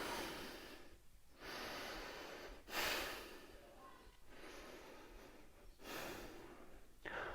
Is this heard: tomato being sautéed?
no